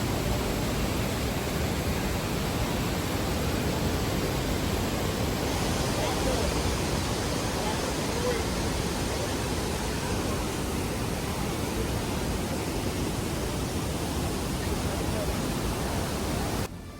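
Niagara Falls roars as a dense, steady broadband rush close by, with spray drifting near the listener; the thundering water stays constant and loud throughout with no break.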